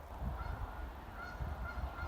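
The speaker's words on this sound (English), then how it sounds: "I hear the geese" Geese honk repeatedly outdoors at a historic homestead park on a windy, cold day, with gusts of wind rumbling steadily beneath the calls.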